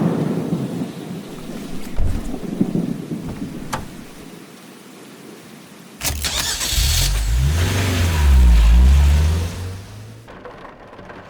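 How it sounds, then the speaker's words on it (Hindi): Light drizzle hisses steadily as the weather turns bad, with low rumbles underneath. Midway, a car engine starts close by and runs loudly until it cuts off near the end. No one speaks. "अचानक से मौसम खराब हो जाता है और बूंदाबांदी स्टार्ट हो जाती है।"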